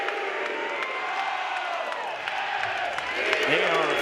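Dense overflow crowd at a record-setting Oregon State college baseball game in Corvallis, roaring and cheering steadily throughout, swelling louder near the end, with a commentator's voice over it.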